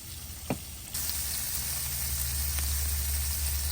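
Stir fry sizzles in olive oil on a camp stove; a brief knock comes first, then the hiss jumps up and carries on as a bright, steady sizzle close by.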